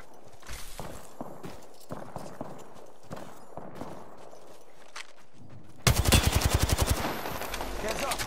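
Gunfire in Apex Legends: scattered shots and impacts with a voice over them, then a dense, loud burst of rapid automatic fire in the last few seconds.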